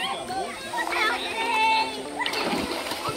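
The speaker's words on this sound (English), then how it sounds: "You go for a swim." Someone jumps into the icy water of the Devils Pool swimming hole near Babinda, and a splash sounds among nearby children's and adults' voices chatting and playing by the water.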